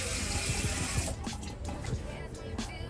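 A bathroom tap runs while a face mask is rinsed off, a steady close splashing stream with irregular splashes as hands move through the water, no talking.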